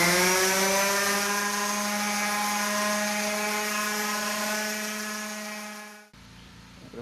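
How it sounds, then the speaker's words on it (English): An orbital sander runs on wood with a steady, loud buzzing whine that drifts slightly lower in pitch for about six seconds, then cuts off abruptly, leaving quiet room noise. "now I got my orbital sander. I'm going to sand it down a little bit."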